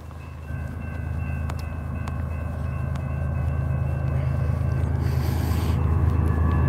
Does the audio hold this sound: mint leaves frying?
no